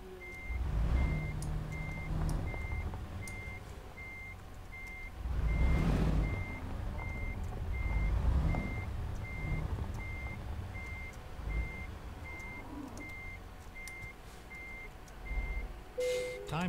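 Truck reversing alarm from a trucking video game while docking a cargo trailer, a steady evenly spaced beep running throughout over low engine rumble, with an air-brake hiss near the end.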